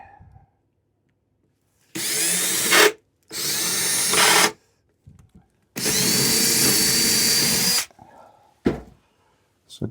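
A power drill bores into wood in three separate bursts of whirring and grinding, each lasting about one to two seconds, loud and close, with quiet pauses and small clicks between them.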